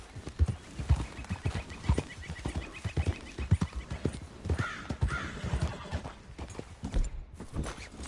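Horse hooves clip-clopping in Red Dead Redemption 2 on PS4, a steady rhythmic trot of clear, close hoofbeats with occasional bird caws in the background.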